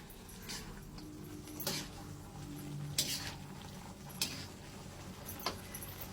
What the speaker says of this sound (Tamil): போட்டுட்டு எல்லாத்தையும் ஒன்றா கிண்டி எடுத்து நல்லா வேக வைங்க